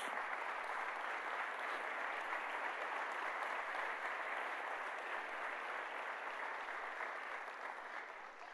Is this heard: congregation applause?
yes